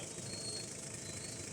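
An overhauled owner-type jeep engine runs at a steady idle, a faint, even low rumble with light mechanical knocking and no talk over it.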